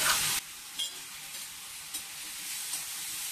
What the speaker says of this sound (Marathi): जो आपण कापून ठेवलेला कांदा होता ना तो परतून घेऊया